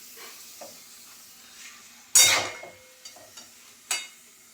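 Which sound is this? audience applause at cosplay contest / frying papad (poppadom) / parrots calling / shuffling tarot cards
frying papad (poppadom)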